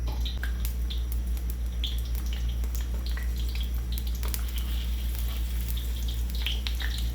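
Ginger frying in hot oil for duck adobo cooked in coconut milk, giving a continuous soft sizzle with scattered crackles and small pops over a low steady hum, close and quiet, with no talking.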